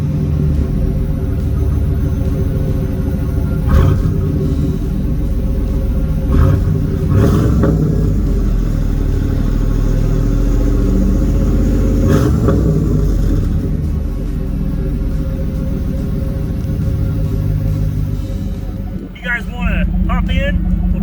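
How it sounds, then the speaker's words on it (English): A 1996 Pontiac Trans Am WS6 V8 rumbles loud and close in a deep, steady idle, with several brief revs rising above the throb and a voice speaking near the end. "let's fire this up, and you guys can listen to it."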